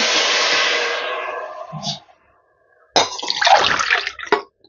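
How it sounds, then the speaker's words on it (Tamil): Water pours steadily from a tumbler into a cooking pot, tapering off, then after a brief pause a second splashing pour follows, close and fairly loud. "ரெண்டரை மூன்றரை டம்ளர் தண்ணி ஊற்றிருக்கேன்"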